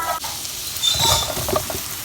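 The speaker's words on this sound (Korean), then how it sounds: "참기름에 다진 마늘 한 큰술 넣고 볶아주다가" Minced garlic sizzles in sesame oil in a pan, a close crackling fry with brief stirring scrapes, short and without talk.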